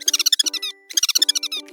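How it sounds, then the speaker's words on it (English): An owl calls in two rapid bursts of high, stuttering, tremulous notes separated by a short pause, bright and close with no background noise, against a nighttime forest setting. "It's nighttime in the forest and here's an owl."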